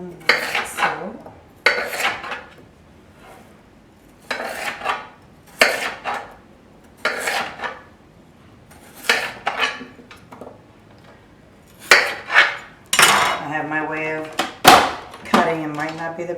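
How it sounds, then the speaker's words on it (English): Potatoes chopped on a cutting board for someone's sopa, heard as bursts of knife taps in uneven groups with pauses between, close by, with a voice talking near the end. "Potatoes, I will chop them like so."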